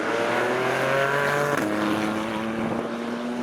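Radical race car driving past on a track day circuit, a high engine whine that drops sharply in pitch as it goes by, heard over the steady engine and wind noise of another car.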